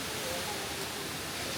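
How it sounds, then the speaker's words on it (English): Tall waterfall near Mount Bromo, Indonesia: a dense, even roar of falling water, continuous and close, with no voices. "Quite tall the waterfall."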